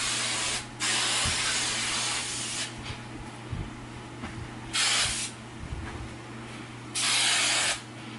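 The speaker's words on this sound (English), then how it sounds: "And then we're gonna spray it. I usually spray it upside down." Hairspray misted over freshly curled hair, held upside down: four separate hissing bursts about a second or two each, close and fairly loud, with quiet handling noises between them.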